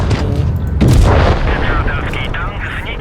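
Tank cannon blast in World of Tanks Blitz from a Skoda T 56, one heavy booming shot that rings out and decays over a few seconds, loud and close, with a voice speaking over it.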